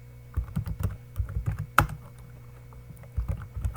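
Typing on a computer keyboard, close and fairly quiet, with bursts of quick key clicks separated by short pauses and one sharper louder tap in the middle.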